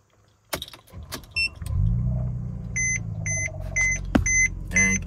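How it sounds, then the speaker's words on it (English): A Mercedes W204 C-Class ignition is switched on with a click, followed by a low electrical hum and a run of repeated dashboard chime beeps, close and clear, with no talking. "So at this point, just turn your ignition on."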